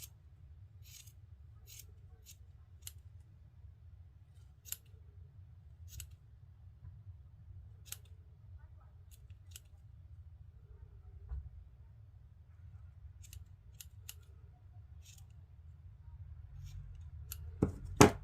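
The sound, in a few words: scissors trimming the ends of a yarn tassel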